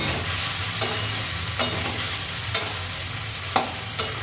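Winter vegetables and Chandramukhi potatoes with turmeric and chilli frying in an open pan keep up a steady sizzle, and five sharp scrapes of a spatula stirring them stand out at regular intervals, close and clear, with no talking.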